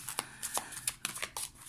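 Tarot cards handled and drawn from a deck, a series of soft, crisp card slides and flicks close by, quiet and irregular with brief pauses between.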